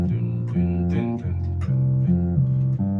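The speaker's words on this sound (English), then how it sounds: "Now we have this universal bass that we just play around," A universal bass line played by a keyboardist's left hand for makossa-style music, with steady repeating low notes that step between pitches in a bouncing rhythm, loud and close, with no talking.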